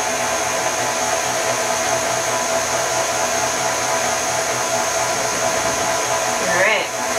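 An electric hand mixer whirs steadily through yellow cake batter, a constant loud motorized hum for several seconds that dips briefly near the end, with no talking.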